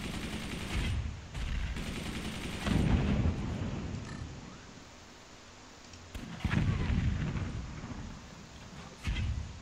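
Weapons and mortar fire in the video game Forts come as repeated heavy booming blasts and rumbling explosions in irregular bursts, separated by quieter gaps and sharp impacts.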